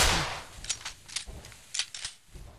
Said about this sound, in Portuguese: o Rick Wall trocando tiros, não vai conseguir conectar o tiro